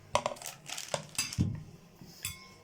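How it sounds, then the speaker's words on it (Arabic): Kofta mixture with chopped onion and tomato-chili sauce is stirred in a bowl, giving a few sparse clinks and scrapes of utensil against the dish, close and fairly soft. "هنبدأ نقلب كل الحاجات الحلوة دي مع بعض كده"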